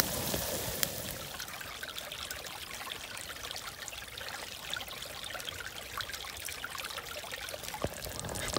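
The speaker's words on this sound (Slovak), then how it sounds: "Tam je hneď blízko potôčik." A small forest brook flows and trickles steadily, close and continuous, with no talk over it, near an outdoor goulash-cooking spot in the woods.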